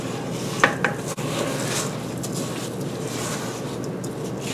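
Rice Krispies are folded into cookie dough with a rubber spatula, giving a soft, steady rustling scrape with a couple of faint knocks, fairly quiet and close with no talking.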